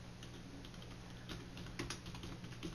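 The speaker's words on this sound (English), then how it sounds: "I'm just going to type in" Steady, quick keystrokes on a computer keyboard while HTML code is typed, soft and close, running continuously at an even pace with no talking over it.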